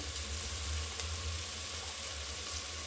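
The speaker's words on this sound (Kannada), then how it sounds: "1 ಸ್ಪೂನು ಶುಂಠಿ ಬೆಳ್ಳುಳ್ಳಿ ಪೇಸ್ಟ್, ಅದು ಒಂದು ಸ್ವಲ್ಪ ಸೆಕೆಂಡ್ ಬಾಚಿಕೊಂಡ್ರೆ ಸಾಕು" Ginger garlic paste sizzles in a hot pan for a vegetable pulao, a steady close hiss of frying that continues evenly throughout, quiet and alone with no talking.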